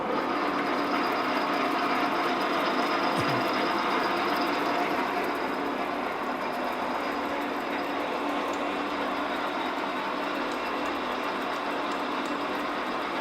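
A lathe in a workshop runs steadily after being switched on, with its tool holder tightened on the tool post. It gives a loud, continuous mechanical whir and hum with no breaks, heard alone.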